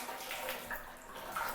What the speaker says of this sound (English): you can see the water pressure is good, but we're losing some through the faucet